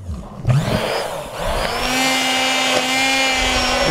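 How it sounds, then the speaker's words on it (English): A blender whirs up to speed blending a mozzarella cheese sauce and runs steadily with a loud motorized drone, a brief clunk near the start, no talking. "Start blending this up."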